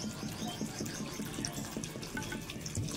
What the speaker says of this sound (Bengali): আলুটা কেটে জল দিয়ে ভালো করে ধুয়ে জলটা ঝরাতে দিলাম